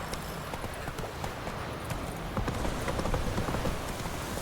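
Roach, the horse in The Witcher video game, galloping with a steady clip-clop of hooves. The hoofbeats run throughout at moderate volume and grow slightly louder toward the end, with a faint rainy ambience underneath.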